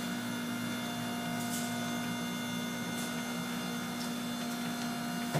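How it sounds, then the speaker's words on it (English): An Orwak 5031E compactor works through a compaction cycle with a steady mechanical hum and faint, intermittent clicks and knocks, heard alone at moderate level. "Once the cylinder hits material, it will raise this up to then push the compacted material outside the bottom."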